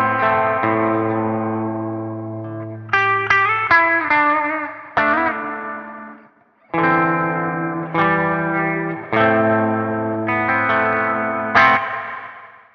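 Meris Mercury X pedal on its Ultra Plate reverb with modulation speed and depth raised, washing over sustained, shimmering chords in phrases with brief gaps and lingering, wavering tails.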